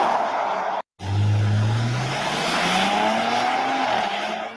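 A Ford vehicle driven at speed gives a rising engine drone with tire squeal over it, loud and close, after a brief cut in the sound near the start.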